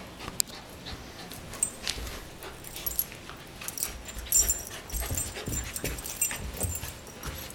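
Puppies scuffle and play, with soft whimpers, snorts and panting scattered through, close by with some rustling.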